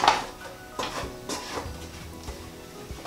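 A utensil scrapes and clatters in a pan as spice mix is stirred through aubergine, with a few distinct knocks and scraping sweeps close by.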